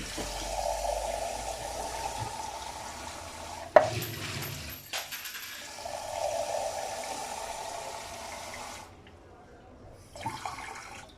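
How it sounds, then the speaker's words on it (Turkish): Water poured into a burnt, blackened teakettle gives a hollow splashing gush that stops and restarts, with clanks of the metal kettle between pours and a brief voice near the end. "Şimdi çaydanımızın içerisine biraz su koyuyoruz."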